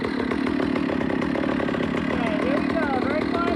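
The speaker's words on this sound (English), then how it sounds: "I've become one with my chainsaw" A chainsaw engine running at a steady high, buzzing pitch throughout, close and loud, with a slight rise in revs near the end.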